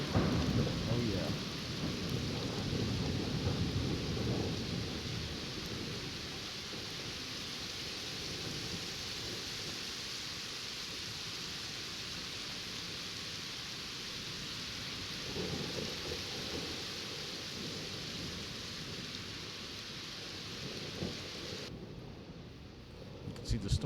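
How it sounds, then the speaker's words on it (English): A severe thunderstorm over New York Harbor near Atlantic Highlands brings steady heavy rain and deep rolling thunder that rumbles throughout, with a person talking briefly over the downpour. "You can still see here some thunder though."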